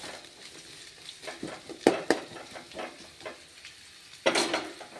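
Food fries in hot oil in a pan for North Karnataka jhunka while a utensil stirs and scrapes it, giving close clinks and taps over a quiet, steady sizzle.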